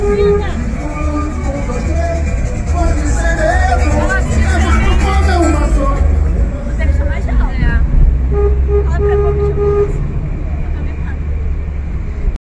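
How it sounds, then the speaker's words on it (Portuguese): Car horns honk repeatedly in a motorcade through Niterói, short toots rising over steady traffic rumble and babble, with one horn sounding close by. "O Marco está aqui firme e forte na buzina."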